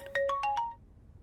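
A mobile phone ringtone plays a short rising melody of four quick electronic notes, clear and fairly close, then fades into quiet.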